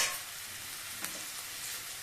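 Dried red chillies fried in oil for a mint and gongura chutney, with mint leaves going in: a steady, even sizzle and hiss, with a brief flare of crackling partway through and no voices.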